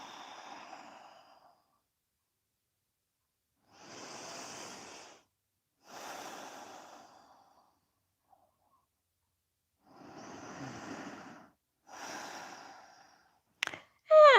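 Slow nasal breathing during a yoga stretch, several soft airy inhales and exhales separated by silent pauses, close and quiet, ending with a brief louder rustle.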